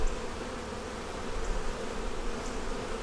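Honey bees buzz steadily in an open eight-frame double-deep hive: a dense, continuous hum with no talking.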